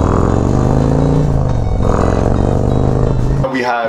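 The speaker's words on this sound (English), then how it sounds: "So this is what the pipe sounds like from my point of view." A loud motorcycle with a Khrome Werks Dominator 2-in-1 exhaust and Reaper 465 cam rumbles and revs up close, heard from the seat, then cuts off abruptly near the end as a short clatter follows.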